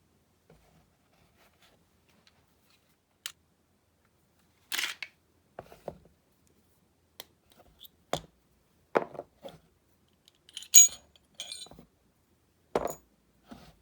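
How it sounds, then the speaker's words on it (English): Glock pistol being broken down on a rubber gun mat, with sparse, faint clicks and clacks of parts separating and being set down, spread apart by quiet gaps. "Go ahead and break it down and put some of the pieces into the compartments."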